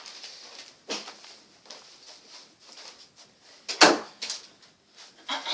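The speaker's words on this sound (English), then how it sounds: "Just gonna shut the door." An indoor door being pushed shut lands as one sharp, close knock partway through, set against a quiet room with soft scattered household rustles.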